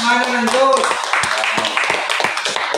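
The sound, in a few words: audience clapping at church pastors conference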